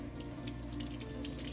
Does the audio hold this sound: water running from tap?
yes